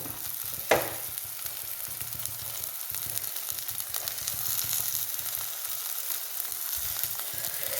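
Onions, beans and chillies fry in a pan with a soft, steady sizzle, quiet and close, broken early by a single clink of a utensil.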